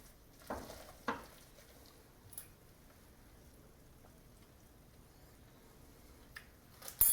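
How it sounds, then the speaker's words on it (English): A rice mixture for arancini gets stirred in a pan: a few soft, scattered scraping and squishing touches against a quiet background, with a louder scrape at the end. "I'm going to give it one stir and then taste it"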